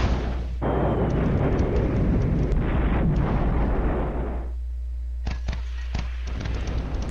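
A salvo of 80mm mortar shells detonates in a war video game: a long run of rumbling, overlapping blasts, then a short lull, then a few sharper separate bursts near the end.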